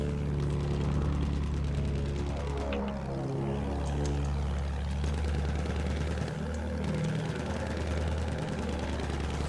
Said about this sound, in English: I got an enemy plane moving around.